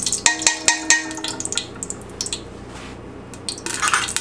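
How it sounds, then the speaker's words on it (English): Dishes and utensils clatter around a hot pot as olive oil goes in to start a chili, a few sharp metallic clinks early on, then quieter handling and a faint sizzle. "First thing we want to do is add our olive oil. Put that in a nice hot pot."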